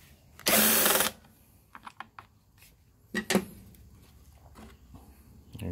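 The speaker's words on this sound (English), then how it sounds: "So now I'm going to take the air filter off. Air filter also has a 5/16." A ratchet wrench takes out the 5/16 bolts holding the air filter on a Briggs and Stratton 126T02 engine. A loud burst of rapid clicking is followed by a few sparse clicks and one more short ratcheting burst near the microphone.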